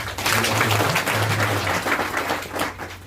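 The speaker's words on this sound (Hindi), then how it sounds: "मैं चाहूँगा कि इन सभी लोग हमारी टीम के लिए आप जोरदार तालियां" An audience claps for the team at the Swaroop Agrochemicals annual meeting in Mussoorie, a full, sustained round of applause at a fairly even level with a low hum underneath throughout.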